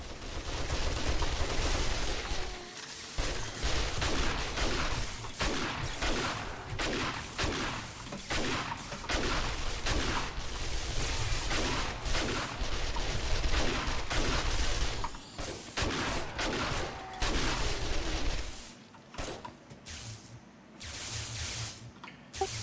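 Dense, continuous gunfire in 7 Days to Die during a massive late-game horde fight, a near-constant barrage of rapid shots with bursts and heavy booms that barely pauses for over twenty seconds before thinning out near the end.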